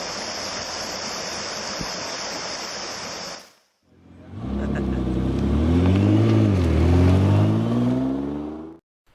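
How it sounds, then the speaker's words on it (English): Rapids of a forest stream rush in a steady, full wash for a few seconds, then break off and give way to a louder droning, engine-like sound that swells and wavers before stopping. "Let's stop for a moment and listen to the sound of the stream before we get moving again."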